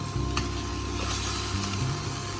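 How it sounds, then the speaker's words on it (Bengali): Dried shutki fish and mixed greens are stirred in a hot pan, giving a steady close scraping and soft sizzle with no voices. "একদম নাড়তে থাকবেন একটু পরপরে যেন লেগে না থাকে"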